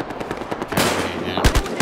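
Rapid gunfire crackles in the video game Battlefield Hardline: a burst of quick shots, then a sustained loud volley, followed by a few heavy, punchy individual shots close by.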